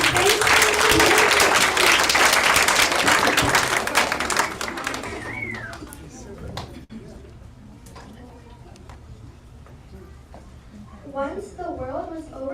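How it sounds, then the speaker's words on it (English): A hall audience applauds drama performers at a Janmashtami celebration, dense clapping for about five seconds that fades out, followed by quieter room sound and speech. "please give them a big round of applause"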